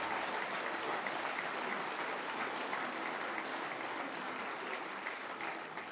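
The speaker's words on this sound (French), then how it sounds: "Oui, vous pouvez l'applaudir." An audience at a François Fillon political speech in Corsica applauds in a steady, sustained wash of clapping that holds evenly for several seconds and fades slightly at the end.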